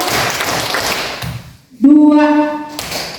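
A group at a Kurikulum Merdeka and anti-bullying outreach meeting claps in a counted pattern, producing a couple of sharp, close claps around a sustained voiced call.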